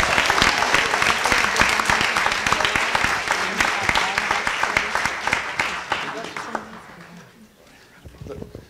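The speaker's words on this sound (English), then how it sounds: "Let us give all of these individuals another round of applause" An audience claps for community service award recipients, with loud, dense applause from a large room that carries on steadily and then fades out over the last couple of seconds.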